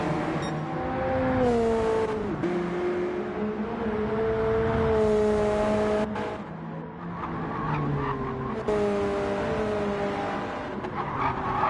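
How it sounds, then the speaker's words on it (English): Mazda MX5 race cars in a racing video game on the Eiger Nordwand track, engines droning and rising in pitch through gear changes, with tire squeal and several cars close together, loud and continuous. "Tyler Davison certainly with an opportunity to close in if he can just wrangle that car, get it under him"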